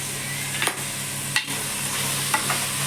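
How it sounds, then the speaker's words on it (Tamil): Chopped vegetables sauté in oil for vegetable rice, a continuous close sizzle broken by a few scraping stirs of a spoon against the pan. "காய்கறி எண்ணெயிலே வதங்கும் போது டேஸ்ட்டும் நல்லாயிருக்கும்"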